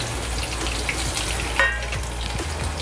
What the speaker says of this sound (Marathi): आपण त्याच्यामध्ये लसूण टाकूया फोडणीला.